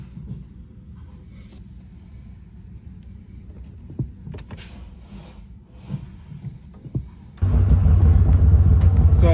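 A 2016-era BMW 428i F33 convertible with a dead battery fails to start, with faint clicks and relay ticks over quiet cabin rumble, then a sudden loud steady drone or chime sets in for the last seconds.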